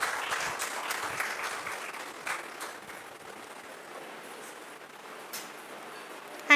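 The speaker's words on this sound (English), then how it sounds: "Big hand of applause" Applause at an academic valedictory function in India, with clapping that starts moderately and thins into faint scattered claps. A brief louder sound comes at the end.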